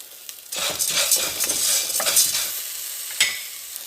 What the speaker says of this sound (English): I'm going to continue the saute for a couple of minutes